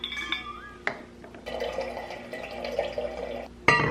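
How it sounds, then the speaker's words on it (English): A water bottle is refilled, with running liquid filling the container alongside light clinks and knocks of the bottle, close and fairly quiet, ending on a sharper clink. "I also need a refill on my water."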